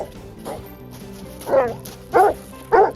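Search and rescue training dogs barking outdoors at a training field: a few scattered barks and yips, growing louder, with three strong sharp barks toward the end.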